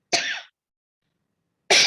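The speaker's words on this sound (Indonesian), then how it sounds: "mohon maaf ini saya kok batuk" Someone coughs twice during an online training session for new civil servants: one short, harsh burst, then after a pause of over a second a second cough that is cut off at the end. Both are close and fairly loud.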